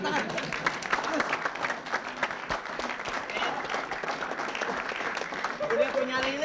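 Studio audience applause on an Indonesian comedy show, a steady dense clatter of clapping filling the whole stretch at moderate level, with voices faintly mixed in underneath.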